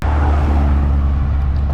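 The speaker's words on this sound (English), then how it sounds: "The cars come past fast." Cars rush past fast and close on the A66 road, a loud, continuous roar of traffic with no voices.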